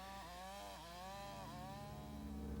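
Chainsaws cut through thick trees in an Alaskan forest, the engines whining steadily with repeated pitch dips as the blades bite, running loud and continuous throughout.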